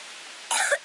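A person coughs outdoors, two or three short, harsh bursts coming suddenly after a quiet stretch, close and fairly loud.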